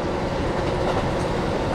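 Diesel rumble of a KiHa 40 railcar pulling out of Furano station on the Nemuro Main Line, a steady broadband roar with faint wheel clatter, heard continuously and fairly close with no talk.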